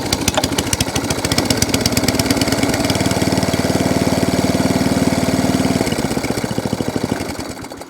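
An ATCO Balmoral 14S cylinder lawn mower's small engine idling close by, a fast even chugging pulse that holds steady, then slows and dies away as it shuts off.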